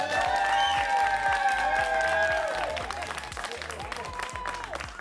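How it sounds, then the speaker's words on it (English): Studio audience at a televised South African business pitching competition applauding, dense continuous clapping with some cheering, steady and loud for several seconds before easing slightly toward the end. "Give yourselves a round of applause."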